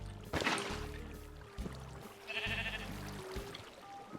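Minecraft sheep bleat in the game while swimming through water: a few wavering, nasal calls in quick succession, clear and moderately loud against soft ambient water sounds.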